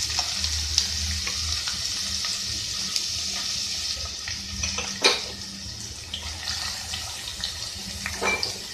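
Almonds and cashews frying in hot ghee for sheer khurma make a soft, continuous sizzle with occasional clinks and scrapes of a spoon stirring in the pan.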